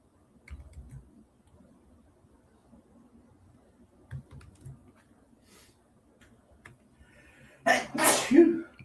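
A single loud, sharp sneeze bursts out near the end, following quiet conversational speech and faint clicks in a room.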